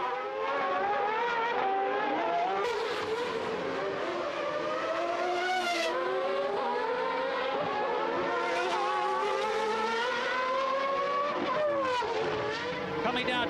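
Formula One cars from the 1990 Australian Grand Prix scream past one after another, high engine notes rising and falling through gear changes, loud and close, under continuous commentary.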